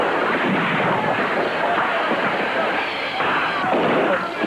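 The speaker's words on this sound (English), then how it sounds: "Those are firecrackers." Firecrackers set off by drunk, rowdy trail hands in an old western town: a dense, continuous crackle of overlapping pops and bangs, loud and steady, with voices mixed into the din.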